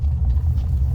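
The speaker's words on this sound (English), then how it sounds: "another dump truck" A dump truck rolls past with a low, steady rumble, heard briefly at moderate distance with no talking.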